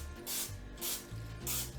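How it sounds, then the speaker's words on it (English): Non-stick cooking spray misted into a pie dish, three short hissing bursts in an even rhythm, close and soft, with no talking. "I'm gonna give this a little bit of a spray."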